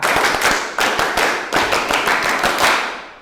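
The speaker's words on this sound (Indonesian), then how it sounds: "Berapa kali tepuk pramuka? 3 kali." A group does the Pramuka scout clap in a classroom, sharp sets of sharp unison claps in a quick rhythm, loud and close, repeating several times with no talk over it.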